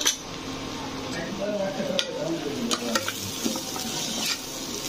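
Spices including garam masala stirred into a frying pan, with a soft sizzle under repeated metallic spoon scrapes and clinks against the pan, close and moderately loud.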